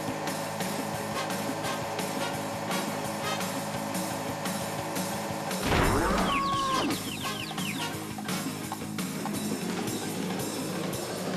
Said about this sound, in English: Bit of a comical effect there from ramming into the cow.